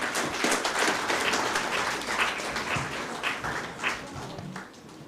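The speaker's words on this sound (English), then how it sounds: "Let's welcome him with a round of applause." A convocation audience at Apollo University breaks into a round of applause, many hands clapping together in a full, even roar that thins slightly toward the close.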